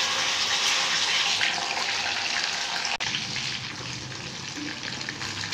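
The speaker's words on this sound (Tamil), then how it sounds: "பாருங்கள் மீன் வந்து நல்லா ஃப்ரை ஆகிட்டு இருக்கு" Fish frying in a pan, a loud, continuous hissing sizzle with crackling oil throughout, steady and close, easing slightly in the second half.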